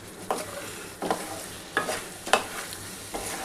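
A spoon stirs potatoes and prawns coated in Kashmiri chilli powder in a hot pan, with about five distinct scraping strokes at a steady rhythm over a low, continuous sizzle of frying, close and moderately loud.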